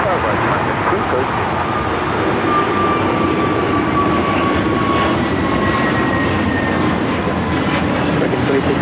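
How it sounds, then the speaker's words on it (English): An American Airlines Airbus A321neo takes off from LAX runway 25 right, its engines roaring as a steady, loud broadband rumble that holds through the whole stretch, with a faint radio voice underneath. "This is American Airlines 2667 taking off to Los Cabos on the A321neo."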